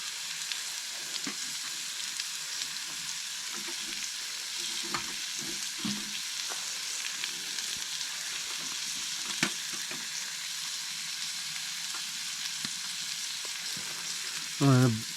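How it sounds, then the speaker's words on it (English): A steak frying slowly on a wood stove while camping in the Alaskan wilderness, a soft, even sizzle with occasional faint crackles and taps, ending in a brief louder knock. "It's going to be a low and slow kind of cook on that steak."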